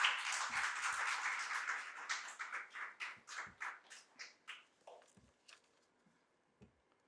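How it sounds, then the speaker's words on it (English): Applause from the audience welcomes a panelist at a talk on women in the workforce: a fairly close burst of many hands clapping that thins out and fades to a few scattered claps and then quiet. "Can we have a round of applause?"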